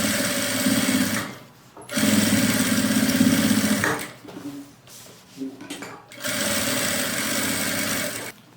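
A sewing machine stitches a straight finishing seam on fabric in three loud, steady bursts of rapid whirring, separated by pauses with small handling clicks and rustles.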